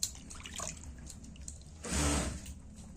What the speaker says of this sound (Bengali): এই যে আমরা এখন ধনিয়া পাতা ধুয়ে নিব সুন্দর করে